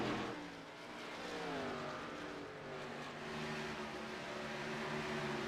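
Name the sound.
race car driving down the pit lane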